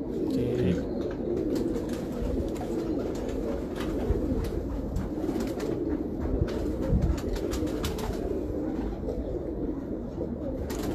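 Breeder pigeons cooing steadily in a loft, soft repeated low coos layered together at close range with a murmur of background activity.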